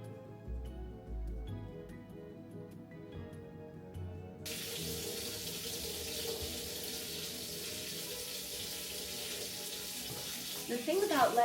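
Hot water from a kitchen sink tap runs in a steady, close rush that begins after a few seconds of quieter kitchen sounds and continues without a break.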